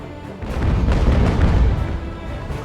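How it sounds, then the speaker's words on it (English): Cannon fire from Dutch warships in the age-of-sail naval battle game Ultimate Admiral: Age of Sail rolls out as a dense, sustained low boom with overlapping rumbles and no voices. "The Dutch guns seem to hit very hard."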